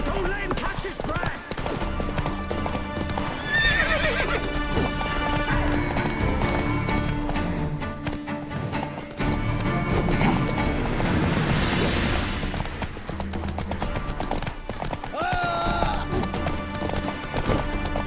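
Hooves clip-clop in a running rhythm in The Witcher 3: Wild Hunt under loud game music and clashing effects, with a horse whinnying a few times.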